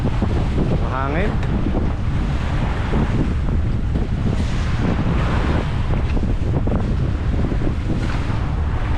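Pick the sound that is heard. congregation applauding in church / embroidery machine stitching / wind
wind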